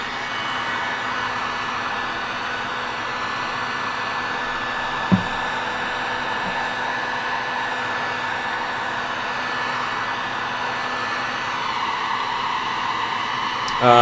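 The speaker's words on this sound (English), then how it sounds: "All I'm doing now, as you can see, I got the heat gun and I'm drying them off." A heat gun blows steadily while drying paint on a small painted piece, a constant close whooshing hum that holds evenly throughout with one brief knock partway through.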